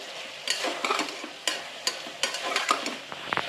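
A spoon scraping and stirring ridge gourd curry with garlic and ground spice powder in a pan, a series of irregular clinks and scrapes over a soft sizzle.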